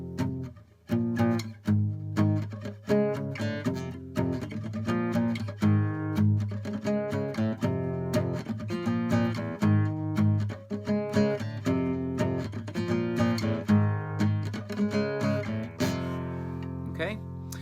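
Electric guitar power chords strummed in a steady, driving rhythm, loud and continuous with ringing harmonic chords and short choppy accents, played alone without talk.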